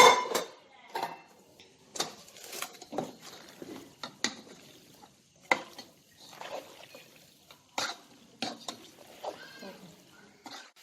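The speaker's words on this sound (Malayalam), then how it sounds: "നമുക്കിനി മക്രൂലിലേക്ക് ഇട്ട് മിക്സ് ചെയ്തെടുക്കാം" Macaroni being mixed with cooked chicken in a pan, irregular clinks and scrapes of a utensil against metal, quiet and intermittent with short pauses between strokes.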